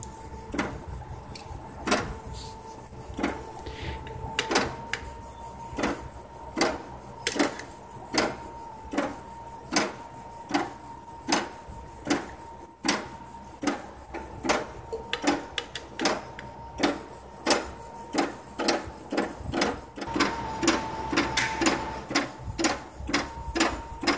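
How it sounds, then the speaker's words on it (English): Homemade linear stage actuator cycling in automatic mode, a motor whine with repeated mechanical clicks and knocks at a fairly regular pace, quiet and close, with no talking. "This is another orientation to show the automatic mode."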